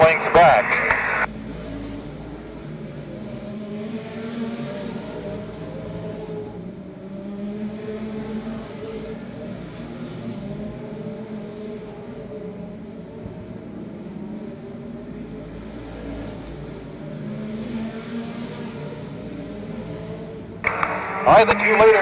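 Race cars circle Rockford Speedway at the 1981 NSTC 200, a distant engine drone under steady commentator talk.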